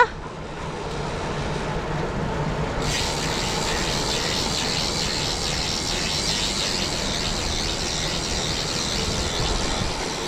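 A bicycle hub freewheel ratchet on GRC 1400 gravel wheels, coasting on asphalt: a fast, steady buzzing whir, continuous and loud with a brighter hiss kicking in after a few seconds.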